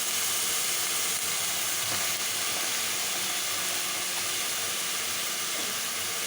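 Bitter gourd pieces fry with tomatoes in a pan, giving a steady, loud, broadband sizzle that runs continuously with no speech.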